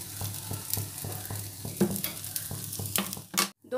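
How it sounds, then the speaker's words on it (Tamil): Mudakathan keerai dosa sizzles softly on a hot pan, with quiet frying crackle and a few light scraping and tapping sounds from the spatula, no voices. "தோசை வேகட்டும்."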